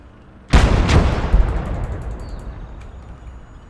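A single heavy boom of gunfire in the WWII strategy game Gates of Hell: Red Star Rising, a loud sharp blast followed by a long rolling echo that fades over a few seconds.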